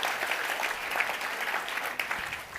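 An audience at an annual meeting applauds, sustained clapping from many people at a steady, moderate level with a slight dip near the close.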